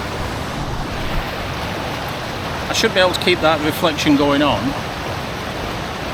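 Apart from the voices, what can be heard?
Conwy Falls waterfall and swirling water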